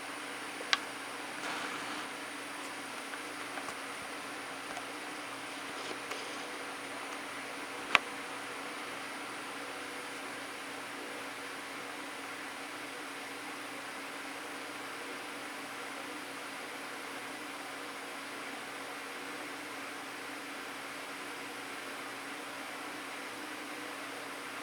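A Lightning Vapes heavy-duty torch, running low on fuel, heats the tip of a blade with a steady, even flame hiss lasting throughout, broken only by a few faint ticks near the start.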